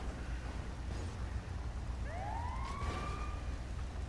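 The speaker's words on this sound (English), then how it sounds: "And then this ambulance gets in the way." An ambulance siren in the video game GTA V Online rises in two quick upward sweeps partway through, heard over a constant low engine and traffic rumble, with no voices.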